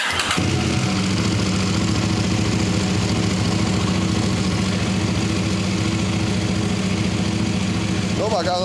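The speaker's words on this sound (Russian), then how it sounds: "И сейчас будем запускать мотоцикл, прогревать его" A KTM LC8c motorcycle engine, started cold for warming up, idles with a steady, even drone that stays loud from start to finish, with a brief voice near the end.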